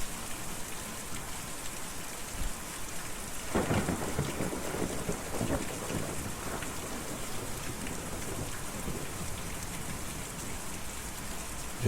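Heavy rain pours steadily in the video game Kentucky Route Zero, with a deep rumble of thunder rolling in partway through, a constant dense wash throughout.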